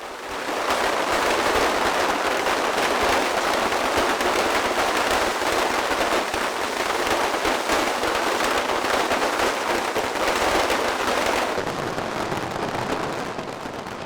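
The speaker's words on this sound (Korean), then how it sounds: "오늘의 대결에서 이긴 카르멘 팀이 좌측의 화살과 폭죽을 터뜨리며 아름다운 쿠바의 밤하늘을 수놓기 시작한다" Fireworks and firecrackers bursting over a Cuban night sky during a Christmas celebration, a dense, continuous crackling barrage that stays loud for most of the stretch before thinning near the end.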